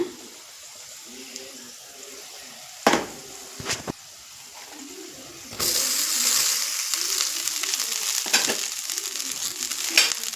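Cooked rice tipped into a pan of fried garlic masala and mixed, soft scraping and stirring at first, a couple of sharp knocks, then a louder continuous sizzle with spoon scrapes once the rice is worked in.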